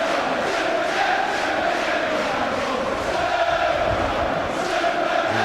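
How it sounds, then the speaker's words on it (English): A football crowd at Selhurst Park roaring and applauding Everton's opening goal against Wimbledon in 1999/00, a loud, continuous wall of cheers and clapping from the stands. "joining in the applause for the opening goal at Selhurst Park"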